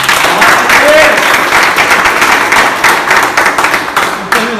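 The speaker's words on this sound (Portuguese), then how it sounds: "Vamos aplaudir a" Congregation applauding during a church service, a dense, steady wash of many hands clapping for about four and a half seconds, fairly loud and close, with voices mixed into the clapping.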